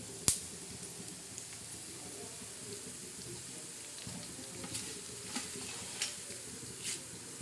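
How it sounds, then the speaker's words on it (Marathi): Whole spices and coriander seeds roasting in a little oil in a pan, giving a soft, steady sizzle with faint stirring scrapes and occasional light clicks. "तेल टाकायचं प्रथम हे भाजायचे कारण खडा मसाला हा लवकर भाजला जातो"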